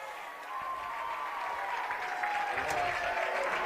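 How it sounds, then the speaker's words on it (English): The crowd cheers and claps at a high school 6A baseball consolation semifinal, sustained and fairly loud. A voice is heard over the noise. "And Mays Madsen gets a big cheer from the crowd as he strides to the left-handed batter's box"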